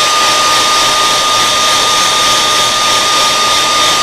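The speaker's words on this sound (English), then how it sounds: "Let's hit this with a hairdryer real quick, or a heat gun" An old Conair 1875 hair dryer, used as a heat gun, blows steadily and loudly up close, an unbroken airy whoosh with a constant motor whine and no talking.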